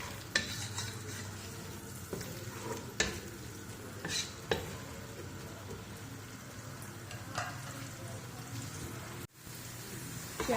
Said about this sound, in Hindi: प्याज को अच्छी तरह गोल्डन से ज़्यादा ब्राउन होने तक हम फ्राई कर लेंगे।